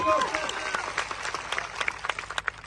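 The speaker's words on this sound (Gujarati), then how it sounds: "એમના માટે જોરદાર તાળીઓ પાડી લો" A crowd at a Gujarat Jodo political rally in Savli, Gujarat applauds police officers: dense, steady clapping throughout, with a voice briefly audible at the start.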